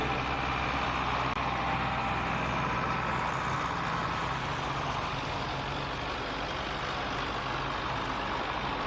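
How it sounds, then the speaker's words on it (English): Ford super farm tractor pulling at the Cattaraugus County Fair in Little Valley, NY, its engine a loud, continuous, rough roar heard at a distance. "A very tough running Ford machine out of Hadley."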